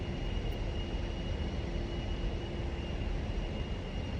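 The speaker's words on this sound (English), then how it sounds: "I love the A-10. She's an absolute monster of an aircraft." A steady, loud jet engine roar from an A-10 aircraft in the DCS flight simulator holds a constant drone with a faint tonal whine on top, unbroken throughout.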